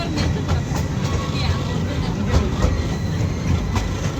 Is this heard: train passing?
yes